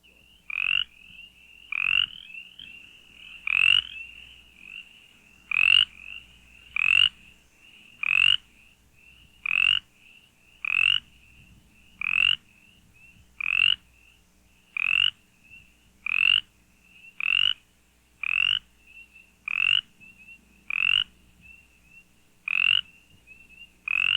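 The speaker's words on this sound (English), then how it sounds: "Also similar in voice, but with even quicker, higher-pitched notes, is Brimley's chorus frog, Pseudacris brimleyi." Brimley's chorus frog, Pseudacris brimleyi, calling alone in a steady series of about twenty quick, high-pitched rasping trills, evenly spaced roughly a second apart, loud and close against a quiet night background.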